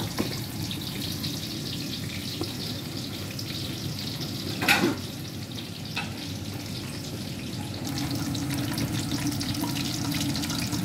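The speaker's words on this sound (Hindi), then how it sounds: "ये फिश फिंगर बन रहे हैं।" Fish fingers frying in a pan, a steady close hiss and sizzle throughout with a brief louder crackle midway, no speech.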